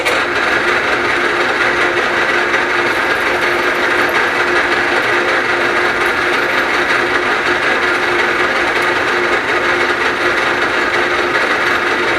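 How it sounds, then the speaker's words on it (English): A continuous loud mechanical grinding and whirring of a Bridgeport milling machine drilling through metal, steady and close with no pauses. "we will go through with the correct size drill bit"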